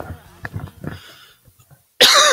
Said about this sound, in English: Hear the cough and then the hiccup?